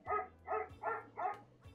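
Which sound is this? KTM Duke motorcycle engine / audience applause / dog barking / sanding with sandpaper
dog barking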